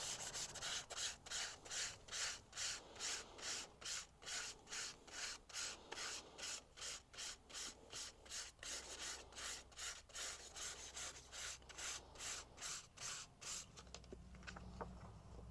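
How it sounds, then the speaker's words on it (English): Sandpaper rubbed lightly over glossy magazine paper laid on burlap, a faint, close scratching in regular back-and-forth strokes about twice per second, stopping near the end. "because it's taking the ink and sanding it off of the white paper underneath"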